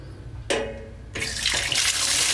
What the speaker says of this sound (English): the next thing we'd want to do here is actually start draining the tank